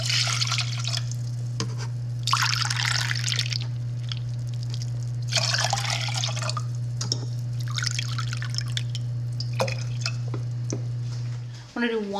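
White distilled vinegar poured into a measuring cup in a kitchen, with trickling and dripping splashes in several bursts over a steady low hum.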